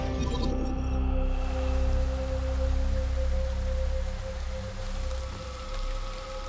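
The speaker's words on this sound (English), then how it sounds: "Heavy monsoonal rain had already been falling through most of July" Heavy monsoon rain pours steadily in Balochistan, a dense, continuous wash of drops close by, loud and unbroken for the whole stretch with a faint high tone fading early.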